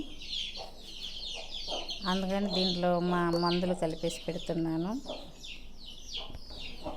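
Country hens and chicks cluck and cheep nearby, with a drawn-out cackling call in the middle, while a person talks over them.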